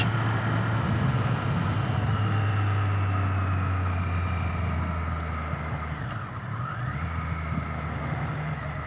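A Triumph Street Triple RS 765 motorcycle's engine drones steadily while riding, a low continuous hum with a pitch dip and recovery partway through, close and without talk.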